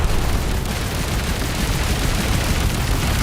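Dense, continuous video-game gunfire in Duet Night Abyss, loud and relentless with overlapping shots blending into a wall of noise throughout.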